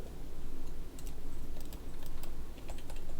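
Close, quick keystrokes on a computer keyboard enter a CAD drafting command, a steady patter of clicks with a couple of short pauses and a final keypress, no voices.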